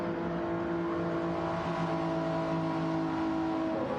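Toyota GT3 race car engine in a racing game on the Daytona road course, a steady loud harmonic whine holding near-constant pitch, slightly rising, with no talk over it.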